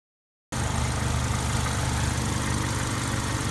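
After a moment of silence, a fully warmed-up 1997 Ford Escort engine idles steadily nearby, a low, even rumble with a faint rhythmic throb.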